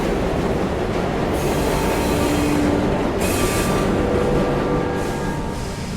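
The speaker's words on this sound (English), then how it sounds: "We have reached the end of the line where this train will terminate." A train pulls in and rolls to a stop at the end of the line in the video game Luna Abyss, a steady loud rumble of rail wagons with squealing wheels and clattering track noise, and no talking.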